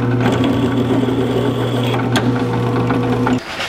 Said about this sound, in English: we'll go over to the belt grinder and we'll grind these edges so they're nice and smooth